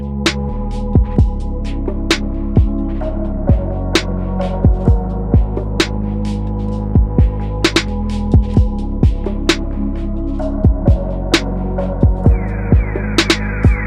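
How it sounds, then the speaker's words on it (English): A refrigerator running nearby produces a loud, steady low hum that stays constant throughout, with faint intermittent ticks and chirps over it. "excuse that loud ass noise. That's the refrigerator next to me"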